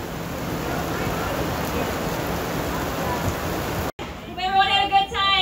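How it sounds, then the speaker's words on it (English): Heavy rain patters steadily on a tent sheltering DJ equipment at an outdoor gig, a dense wash of drops, then an abrupt cut to a different scene where people talk over the background. "It was raining a lot"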